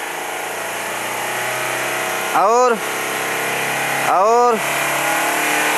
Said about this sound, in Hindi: चलो ज़रा एक्सीलेटर दो और दियो